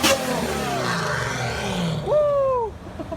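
A Mercedes S600 V12 with a $12,000 aftermarket exhaust revving loudly up close, a sustained roaring pull followed by a sharp rising-then-falling blip as the engine spins up and settles.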